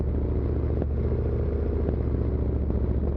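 Race car engines in the video game Assetto Corsa at the Londrina circuit, a steady loud droning buzz of several engines held at high revs with a few faint clicks, no talking.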